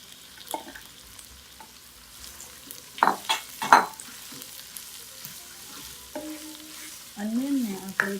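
Chopped onions fry in a pan for a chicken curry, with scattered scraping stirs and clatters of a utensil against the pan over a low sizzle, a louder burst of frying and stirring near the end.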